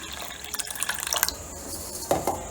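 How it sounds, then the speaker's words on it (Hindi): Red lentils (masoor dal) are swished and rinsed in water, giving soft, quiet splashing and trickling with a few small drips and sloshes over a couple of seconds. "इसे हम 3-4 बार अच्छे से वॉश करेंगे जब तक इसका पानी बिल्कुल साफ नहीं हो जाता"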